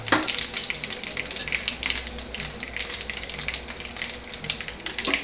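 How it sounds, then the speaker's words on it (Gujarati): Hot oil sizzles with cumin, mustard seeds and a spoonful of asafoetida for a pohe tempering, a continuous close frying hiss dense with rapid crackles and pops, with no talking. "અને 1 ચમચી હિંગ નાખી દેવાની"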